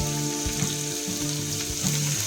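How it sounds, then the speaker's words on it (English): Chopped onions hiss and sizzle steadily in hot oil with cumin seeds, a continuous crackling fry, with a few soft knocks of a pan or utensil. "Immediately drop the chopped onions directly into the sizzling cumin seeds."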